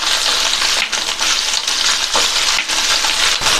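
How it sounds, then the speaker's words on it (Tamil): Brinjal pieces fry in a pan on medium flame for a brinjal potato masala: a loud, close, continuous sizzle broken by brief dips and scraping bursts as the pieces are stirred. "அடுத்து கத்திரிக்காயை சேர்த்து ஃப்ரை பண்ணிக்கலாம்"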